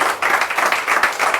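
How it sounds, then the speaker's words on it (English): A comedy show audience breaks into applause, many hands clapping together in a dense, steady patter that rises and falls slightly over its short length. "Give Kaz a round of applause, please, for the establishment."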